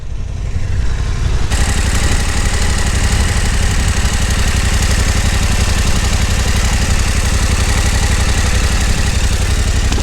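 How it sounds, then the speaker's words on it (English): A 2024 Yamaha Tenere 700 motorcycle engine idles close by, a steady, loud, even thrum that starts abruptly and holds without variation. "the engine from the Tenere runs very smoothly, very smooth. It's very silent."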